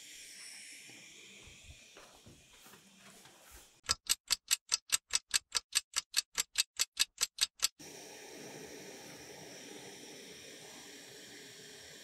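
Sharp, evenly spaced stopwatch ticks, about sixteen loud clicks in a steady rhythm, stand out over the soft hiss of a Primus Lite Plus camping stove heating half a liter of water, with the burner's roar returning once the ticking stops.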